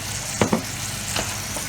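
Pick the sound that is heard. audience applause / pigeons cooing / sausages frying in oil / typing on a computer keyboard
sausages frying in oil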